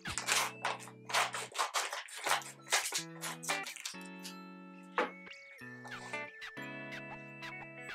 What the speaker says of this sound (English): So we're going to use some scissors to open them up.